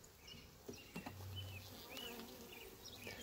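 Honeybees buzzing inside a small mating nuc hive, a steady close drone with faint rising whines over a low hum, continuous through the clip with no talk.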